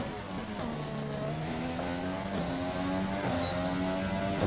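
Formula 1 race car engine in the F1 2020 video game at Singapore qualifying, a continuous high-pitched revving whine with rising and shifting gear tones, steady and close.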